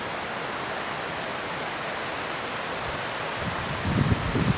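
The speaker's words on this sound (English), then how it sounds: "You can hear the river down there." A river rushes in a gulch below an evening campsite near Lone Pine, a steady broadband roar heard from a distance, with a gust of wind buffeting near the end.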